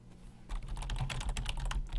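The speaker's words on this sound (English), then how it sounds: "I'll type it out." Rapid typing on a computer keyboard while coding, a close, steady patter of key clicks starting after a brief quiet moment and continuing to the end, with no talk.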